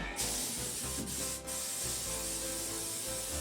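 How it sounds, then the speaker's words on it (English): Cooking spray sprayed onto a sheet pan: a steady hissing spray runs continuously for a few seconds with a couple of brief breaks, close and fairly loud. "Let's go ahead and spray my pan."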